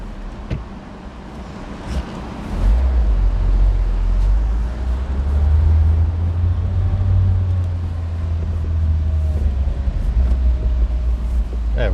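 A car pushes across the sand of 90-mile beach at the top of New Zealand, its loud, low rumble surging as the wheels spin and the throttle is worked, with scattered knocks and no voices.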